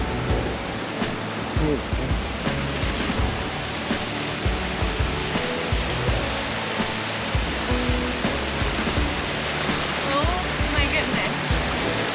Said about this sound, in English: There's a waterfall coming up.